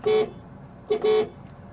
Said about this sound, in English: That's the horn of the Ford Fiesta.